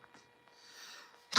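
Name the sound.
sneeze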